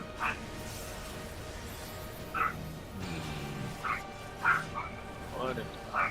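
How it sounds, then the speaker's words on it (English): Pet dogs barking and yipping somewhere in a home, short sharp bursts scattered across the moment, fairly faint and distant beneath steady background sound. "I'm sorry if you can hear barking."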